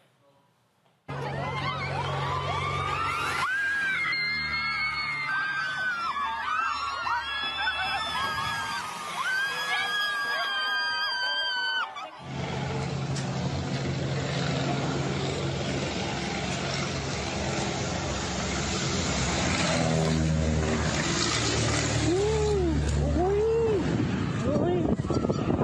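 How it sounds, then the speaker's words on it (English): Crowd yelling and screaming at a gender reveal party in Mexico, loud and continuous, mixed with a plane's droning engine and sharp bangs of fireworks, with voices over the din. "all them people out there yelling and hollering and screaming, they firing off fireworks and everything"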